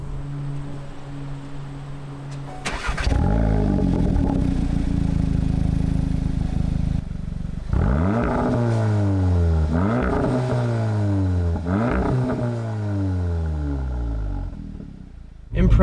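A Mk7.5 Golf R with a Remus valved catback exhaust idles, then blips through a series of sharp revs, each rising and falling back. The engine is close and loud, with a quieter idle between the bursts.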